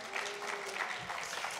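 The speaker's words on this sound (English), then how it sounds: "You can clap now." Audience applause before a public lecture: a steady, dense wash of many hands clapping, sounding somewhat distant and filling the whole short moment without speech on top.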